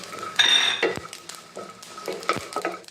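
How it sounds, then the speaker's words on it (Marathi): A spoon scrapes and clinks against a pan as coconut, peanuts, cumin and sesame are stir-fried, with faint sizzling between irregular bursts of stirring and no talk. "आता यात हे जिरे टाकले आणि हे थोडे तीळ. आता सर्व परतून घेते."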